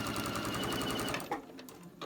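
A sewing machine stitches a straight quarter-inch patchwork seam, running at a steady rapid chatter for just over a second before stopping, followed by faint handling clicks.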